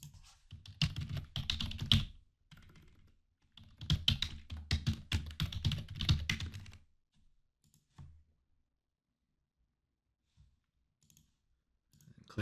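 Two bursts of brisk typing on a computer keyboard while entering login credentials in an admin report tool, each a few seconds of dense clicking with a pause between, followed by a few faint isolated taps.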